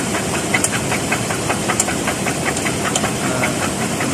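Dodge Charger with a Pentastar 3.6 V6 engine knocking, a rapid steady metallic tapping repeating over a loud idling drone, heard up close with no speech.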